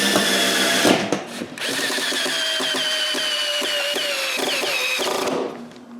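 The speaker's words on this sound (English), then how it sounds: "When all the pieces are cut to length, we glue and screw them together." A power drill drives screws into a glued wooden frame for an edge sander build, a loud close whirring motor that rises in pitch and holds through several bursts with brief pauses, and no voices.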